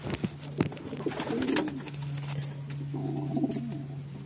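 A homing pigeon, injured after a collision, coos in soft repeated phrases close by over a steady low background hum, with no talk.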